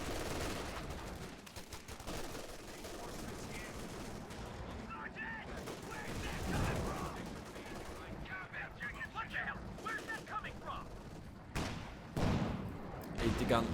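Gunfire in the strategy video game Company of Heroes 2, with repeated bursts of shots and machine-gun rattles under a steady battle din while a commentator talks over it.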